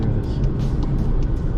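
Steady broadband road and cabin rumble from a 2022 Volkswagen Lamando TSI SEL cruising on a highway at almost 100 km/h, continuous and fairly loud, with a voice speaking over it.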